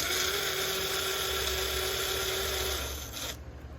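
A power tool gun fitted with a 17 mm socket runs during a B-series valve replacement, making a steady high whine for about three seconds before it cuts off.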